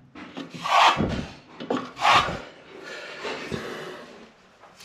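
A plastering trowel pressed hard into a wall corner, scraping and rubbing wet plaster in a few firm strokes with a close, gritty rasp and short pauses between pushes.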